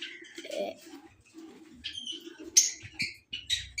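Pigeons in a backyard coop at Kala Bagh give soft low coos and scattered chirps, with brief wing flutters and a few sharper calls, nearby and moderately loud, with no talking.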